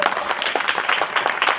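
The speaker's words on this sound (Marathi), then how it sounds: "त्याच्यासाठी जोरदार टाळ्या होत्या" An audience at a Tukaram Maharaj kirtan applauds, a dense, steady patter of many hands clapping together close by.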